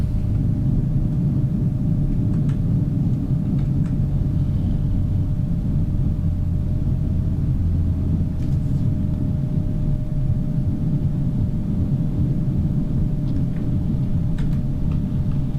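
Landing airliner in Microsoft Flight Simulator, an easyJet jet arriving at Paris Charles de Gaulle, with a continuous low reverse-thrust roar and rumble that stays steady and loud throughout.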